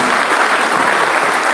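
Applause from a crowd gathered at a memorial service, dense and steady clapping that fills the space loudly and evenly without a break.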